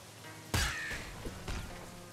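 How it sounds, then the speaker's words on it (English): Crows cawing in the video game Nuclear Throne, two or three harsh bursts, moderately close, over quiet game background. "So many crows about."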